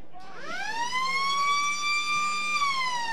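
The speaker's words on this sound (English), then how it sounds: "Siren sounds." A loud, sustained siren wails on one steady rising-then-level tone for a few seconds at a suburban football ground, signalling the start of a quarter, with faint background crowd noise beneath.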